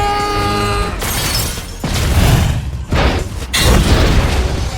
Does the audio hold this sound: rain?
no